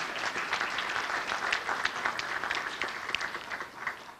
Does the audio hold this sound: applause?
yes